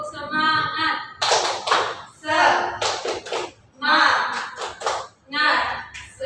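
Children clap the rhythmic 'tepuk semangat' chant in an elementary classroom, bursts of clapping alternating with shouted chanting voices in a steady pattern.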